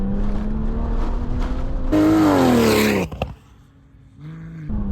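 A rally-built car with costly upgraded suspension drives off-road through mud. Its engine roars loudly and climbs in pitch, then drops away briefly before the revving returns.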